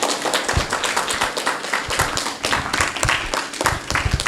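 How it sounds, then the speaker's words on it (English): An audience at a science talk claps for the professor, dense close-up applause that is loud and sustained, with no voices over it. "Can we give an applause to Professor Schaefer?"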